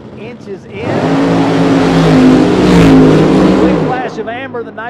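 A nitro funny car with a Firebird body roars down a drag strip at Penwell Knights Raceway, a loud sustained engine blast rising and falling over about three seconds, with track announcer talk at the start and end.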